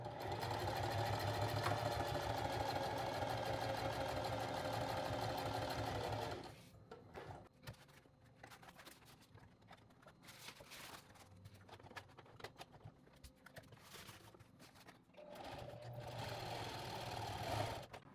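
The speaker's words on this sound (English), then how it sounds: "then I'm going to stitch right on the other side of that D-ring" A sewing machine stitches a D-ring onto the handle of a duffel bag, running in steady close bursts at the start and end with quieter handling noises and a pause in between.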